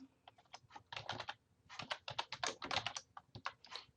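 Fingers typing a password on a computer keyboard, quick irregular bursts of close clicking keystrokes with short pauses between groups, fairly quiet, no voices.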